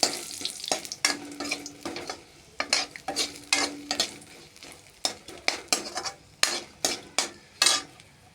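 A spoon repeatedly scraping and clattering through dried red chillies and bay leaves in a hot pan, with soft sizzling; the strokes come in quick, distinct bursts at an uneven rhythm, close and fairly loud.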